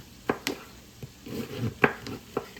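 A knife cuts pieces off a cabbage on a board, a handful of sharp, separate chopping thunks spaced unevenly over a quiet kitchen background, with no talking.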